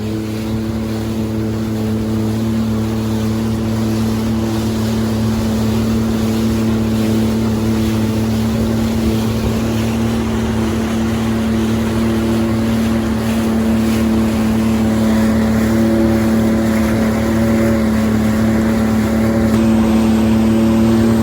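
A 2022 Yamaha VX Cruiser personal watercraft carrying three riders drones loudly and steadily, its engine humming close with water and wind rushing past throughout.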